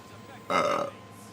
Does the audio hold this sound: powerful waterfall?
no